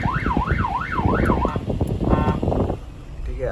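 A remote-controlled VIP police-siren hooter installed in a Hyundai Grand i10 wails loudly with a fast up-and-down siren warble, then breaks into choppy, shifting electronic tones over rumbling wind noise.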